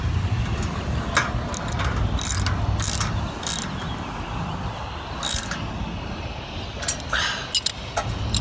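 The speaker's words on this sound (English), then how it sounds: "So I'm ready to ratchet tight the sign, and this is 9/16, so I've got 2 of the ratchets" A hand ratchet clicks in short, irregular bursts while tightening 9/16 bolts on a sign post outdoors, the sharp pawl clicks sitting over a low background rumble.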